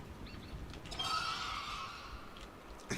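Horses neighing from horsemen units in a strategy video game, a single clear whinny rising mid-clip over a soft background, with faint hoof clops and no speech.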